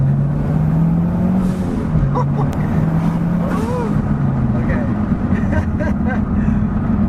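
Mitsubishi Evo X fitted with a Cobb Accessport pulling hard on the road, a droning engine note rising and holding under a steady rush of road noise, heard from inside the car with voices talking over it.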